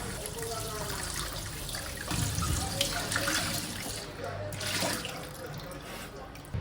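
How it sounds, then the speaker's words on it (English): Water from a running kitchen tap splashes over fresh ginger being rinsed, a steady close hiss with uneven surges as the flow hits the root and the sink, and someone speaks over it. "Now I'm gonna clean this with the running tap water."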